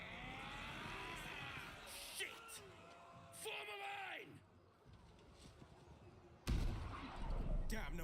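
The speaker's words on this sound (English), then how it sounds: "Cannon!" Cannons fire during a Baldur's Gate 3 battle. Shouting voices and chaotic combat noise build up, and a heavy, booming blast lands near the end with loud rumbling after it.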